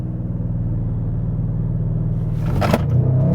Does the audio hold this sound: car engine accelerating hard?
yes